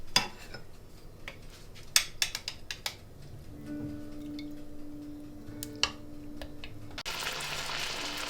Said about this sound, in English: Just going to put the meat in the frying pan.